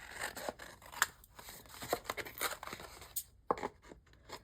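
Scissors cut a length of ribbon for a craft project, with several quiet, crisp snips and rustles close by, spaced irregularly over a few seconds.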